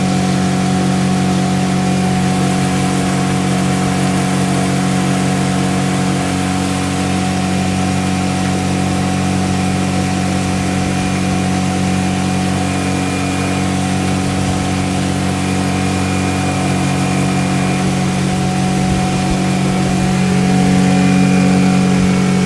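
A pontoon boat's outboard engine runs steadily at high RPM, around 5,800, with a loud, continuous droning hum that holds an even pitch throughout and no speech.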